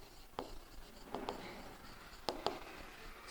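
Pen scratching on paper while filling in an accounts receipt entry, a few short faint scribbles and taps spread across a quiet room with no talking.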